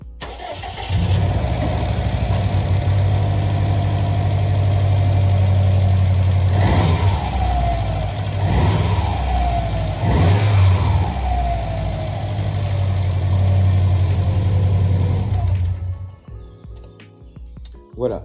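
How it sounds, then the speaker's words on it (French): A car engine idles steadily after an oil and filter change, then takes three light throttle blips to about 2000 rpm that rise and fall quickly before the engine is shut off near the end. "Je mets 2-3 coups de gaz léger à 2000 tours minute à peu près."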